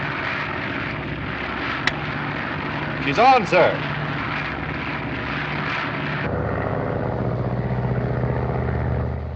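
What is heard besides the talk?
radio-controlled airplane flying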